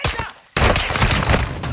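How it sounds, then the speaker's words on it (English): Gunfire in Call of Duty Modern Warfare, a loud, dense burst of rapid shots filling most of the moment after a brief quieter lull, close and continuous. "I shoot one guy, he's supposed to shoot one, and I try to quickly shoot the other?"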